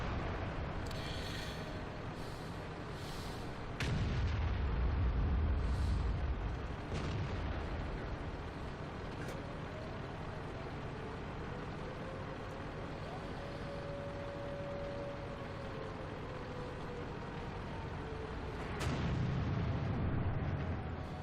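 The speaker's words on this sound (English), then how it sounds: "That artillery is going to be tough." Artillery fire explosions in a World of Tanks battle: two heavy, low booms land seconds apart, first early and again near the end, over a steady bed of engine rumble and battle noise.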